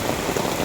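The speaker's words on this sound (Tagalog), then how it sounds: "Grabe, lumakas ang ulan." Heavy rain pouring down outdoors, a loud, dense, continuous hiss of falling water, close and steady across a very short stretch.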